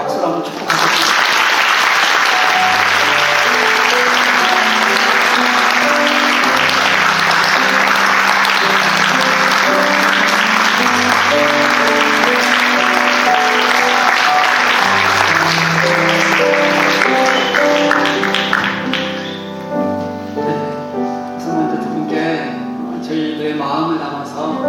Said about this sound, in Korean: 우리 먼저 크게 박수를 한번 축복하겠습니다.